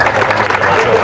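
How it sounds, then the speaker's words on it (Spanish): An audience at a live talk session claps for a participant, with dense, close applause filling the whole short moment. "Un aplauso para ese participante."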